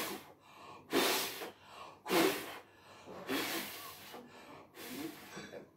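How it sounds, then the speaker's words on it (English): Pursed-lip breathing exercise for the lungs, a series of about five loud, breathy exhalations forced out through the lips, each a hissing blow separated by quieter pauses. "The next thing that you have to do is pursed-lipped breathing."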